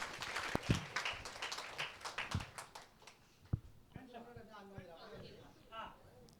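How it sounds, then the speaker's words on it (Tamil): Scattered audience applause at a Tamil debate event marking a Tamil association's anniversary, with a few sharp claps amid a host's talk, followed by a speaker addressing the hall. "அசர்ற மாதிரி ஒரு கைத்தட்டல் கொடுங்க"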